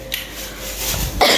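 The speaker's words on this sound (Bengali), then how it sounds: "কাশি হয়ে গেছে।" A single short cough in a home kitchen, close and moderately loud, preceded by faint rustling.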